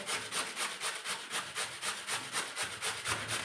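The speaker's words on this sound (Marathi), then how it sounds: "जी जाड किसनी असते त्या किसनीनेच आपण छान किसून घेऊया बटाटे" Raw potatoes rubbed against a coarse kitchen grater give a steady, close rasping scrape, repeating at about three strokes per second with no voices.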